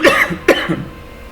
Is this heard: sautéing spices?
no